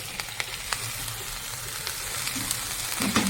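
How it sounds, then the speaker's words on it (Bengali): Liquid from cooked meat poured over chicken in a pan, a steady soft sizzle and bubbling with faint clinks and stirring, no talk. "জল তো আমি ওপর দিয়ে জলটা দিয়ে দেবো এটা মাংসেরই জল"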